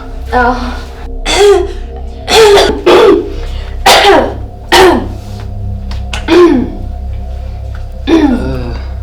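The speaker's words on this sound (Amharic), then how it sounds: "አሳለኝና ትንሽ ትንፋሽ አጠረኝ።" A person coughs repeatedly and clears their throat, harsh bursts close to the microphone with gasping breaths between them, over a low steady hum.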